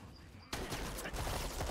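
Gunfire sound effects from the video game Lost Ark burst in as a dense rapid volley of shots that continues steadily after a quieter start, fairly loud with no speech over it.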